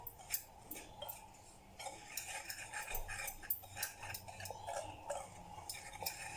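A whisk scrapes and clicks against a bowl as flour, desiccated coconut and sugar are mixed for an eggless semolina coconut cake, in quick uneven taps and rattles, close and fairly quiet, with no talk.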